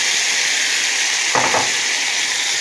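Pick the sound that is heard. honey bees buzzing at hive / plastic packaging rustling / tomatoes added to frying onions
tomatoes added to frying onions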